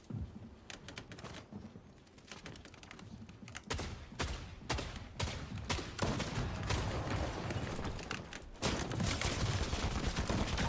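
Assault rifle gunfire in Fortnite, rapid bursts of close shots with quick clicky taps, growing denser and louder toward the end, with faint talk underneath.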